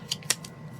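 Scissors trim paper in two or three quick, crisp snips close by, over a faint low background hum.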